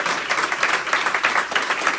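Church congregation clapping together as an offering of palms during a worship service, a steady, dense round of handclaps filling the whole stretch with no voices over it.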